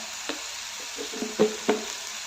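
Onion and tomato sautéing with salt in a pan, a steady low sizzle broken by a few soft spatula scrapes and taps, close and fairly quiet, no voices.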